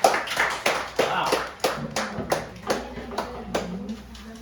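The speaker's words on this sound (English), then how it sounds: "let us give another round of applause to Brother Leo." A church congregation at a talk gives a round of applause, with a steady patter of many clapping hands and sharp individual claps over about four seconds.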